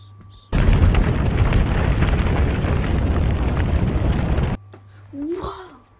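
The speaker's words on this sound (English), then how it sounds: "Whoa, that was a big explosion." A big explosion in a game, a sudden loud burst of roaring noise held for about four seconds before cutting off abruptly, followed by an exclaiming voice.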